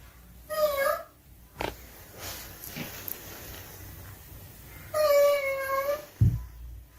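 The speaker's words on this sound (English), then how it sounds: "Her daughter's toy cat, which can only be activated by pressing a button, suddenly turns on by itself." A child's electronic toy cat, meant to work only at the press of a button, lets out two synthetic meows a few seconds apart in a quiet room, with a few knocks and faint rustling between them.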